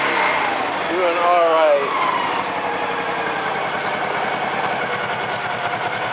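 A Honda Pacific Coast PC-800 motorcycle engine idles with a steady, even pulsing throb after warming up, close and continuous, while someone speaks briefly over it near the start.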